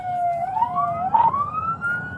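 A police siren wails up and down, rising and falling in pitch, moderately loud over a low road hum.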